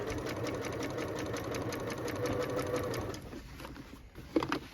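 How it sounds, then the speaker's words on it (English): A sewing machine stitching around the sleeve of a denim jacket, a fast steady mechanical rattle that runs close and loud, then slows and stops, leaving a quieter pause with a small clunk. "Just make sure you're not sewing anything that shouldn't be sewn underneath."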